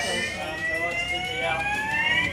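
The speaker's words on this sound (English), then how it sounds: "the fire alarm is blaring" A hospital fire alarm blares continuously with steady piercing tones, loud and unbroken throughout.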